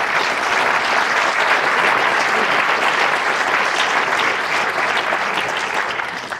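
At a county state-of-the-county address, an audience breaks into loud, sustained applause, a thick, even wash of clapping that fades slightly at the end.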